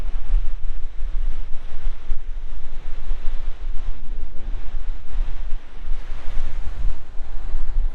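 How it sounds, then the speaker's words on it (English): Cold wind coming off Lake Huron roars steadily across the microphone, with a constant loud rumbling buffet and a wash like surf underneath and no break throughout. "She gets pretty cold, that wind coming off the lake."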